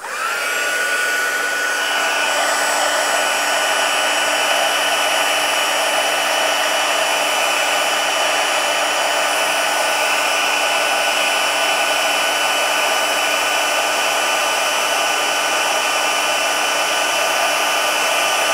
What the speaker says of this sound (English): And then we're gonna heat emboss this.